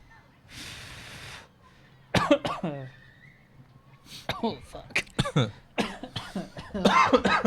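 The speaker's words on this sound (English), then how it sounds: "seeing you cough made me cough, bro" A few harsh coughs close to the microphone, followed by someone talking and laughing amid more coughing fits.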